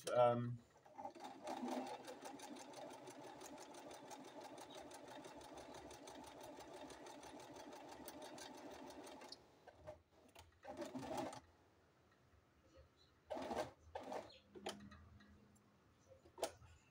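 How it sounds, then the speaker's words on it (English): Sewing machine stitching a buttonhole on a chocolate brown garment, a rapid steady mechanical ticking run for several seconds, then short bursts of stitching with pauses, faint and close, without speech over it. "one step buttonhole machine"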